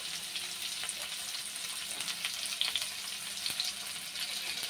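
Chopped onions and curry leaves fry in hot oil with a steady, even sizzle and hiss throughout, close and moderately quiet, with no voices.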